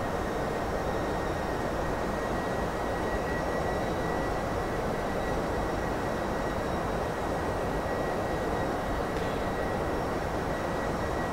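Steady broadband roar of IXEG 737 jet engines in the X-Plane 11 flight simulator, a constant loud drone with a faint high whine, continuous and unchanging throughout with no talking.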